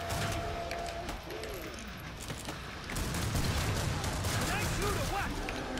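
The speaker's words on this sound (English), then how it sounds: "I'm using the revolvers now because there's a lot of Zeds." Revolvers fire in the video game Killing Floor 2 amid a crowd of enemies, with repeated sharp shots and impacts layered over dense game effects and music, steady and loud throughout.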